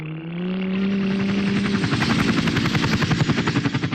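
Helicopter in a film scene, its rotor building from a rising engine whine into a loud, steady rhythmic chopping close by, with no voices over it.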